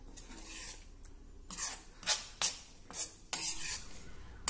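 Garlic and dry coconut chutney being stirred in a pan, with a spoon scraping and clinking against the metal in several short, fairly faint strokes and no talking.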